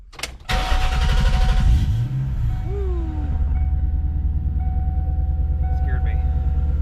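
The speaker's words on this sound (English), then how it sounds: "I am really hoping that the car starts up." A 1998 Cobra's engine cranks and catches, then settles into a loud, steady idle close by, with a few brief electronic chirps above the rumble and a person speaking over it.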